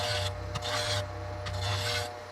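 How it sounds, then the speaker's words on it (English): A woodworking tool being sharpened while making an ash salad bowl, two close rasping strokes of steel scraping back and forth with a brief pause between them, with no talking. "So I'm actually going to go sharpen this."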